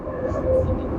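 Low rumbling roar of a light rail train moving fast along the tracks at about 60 km/h, steady and fairly close, with a faint tonal whine on top.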